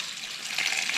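Water rushes strongly out of a hose or pipe fed from a mountain source to a home, a steady, loud hiss that swells slightly toward the end, with no voices over it.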